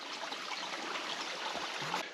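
Spring-fed mountain stream water flows and trickles steadily at close range in a gorge, a soft continuous babbling hiss with no voices.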